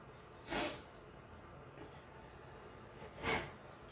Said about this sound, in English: y'all have to listen to me sniffling